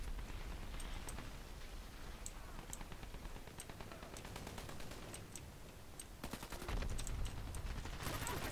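Gunfire in the online shooter Dirty Bomb, steady rapid bursts of shots with sharp cracks throughout and a louder, denser stretch toward the end over a constant background din.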